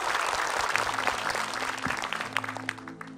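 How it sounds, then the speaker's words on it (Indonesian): Applause from a studio audience at an Islamic television sermon program, a dense steady patter of many hands. A low hum runs underneath and a few louder claps stand out near the end. "Tepuk tangan dong buat Pak Ustadz."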